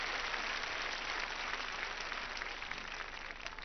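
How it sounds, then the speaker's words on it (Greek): Audience applause at a live Greek music event honouring a composer, sustained dense clapping alone throughout, steady and loud with a slight fade at the end. "Χειροκροτήστε τον"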